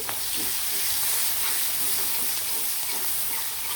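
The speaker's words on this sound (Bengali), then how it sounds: "মাংস ভাজা তেলের মধ্যে পেঁয়াজগুলো ছেড়ে দিলাম" Sliced onions sizzle loudly in hot oil left over from frying chicken, a constant crackling fry with occasional stirring scrapes and no talking.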